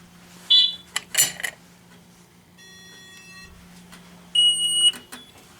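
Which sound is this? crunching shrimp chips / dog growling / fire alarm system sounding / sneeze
fire alarm system sounding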